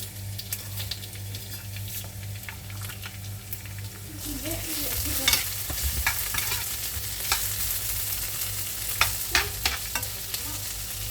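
Two chopped onions cook in a pan over heat that is then turned down, a continuous sizzle with occasional stirring scrapes and crackles that grows louder partway through. A low hum runs underneath.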